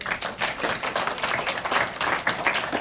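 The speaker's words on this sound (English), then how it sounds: "Let's applaud both of the candidates" An audience at a village mayoral candidates' forum in Roslyn Estates, New York, claps in a brief, dense burst of applause, close and fairly loud throughout.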